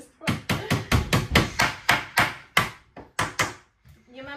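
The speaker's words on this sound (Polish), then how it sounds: "To jest młotek od parawanu." A small screen-frame hammer taps repeatedly in a quick, uneven rhythm, about a dozen sharp close knocks, followed by a brief voice at the end.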